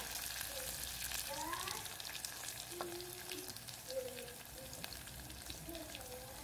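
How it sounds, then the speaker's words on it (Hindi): Chopped onions frying in a pan for Odia dalma, a steady soft sizzle with faint scraping under low background noise. "और ऑनियन को थोड़ा सा भून लेंगे।"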